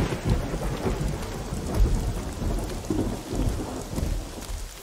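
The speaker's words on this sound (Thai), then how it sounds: "ฝนก็ตก" Steady rain pours with rumbling thunder rolling underneath in a horror video game, a dense continuous wash of downpour with low booming swells throughout.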